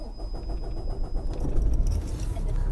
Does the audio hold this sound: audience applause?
no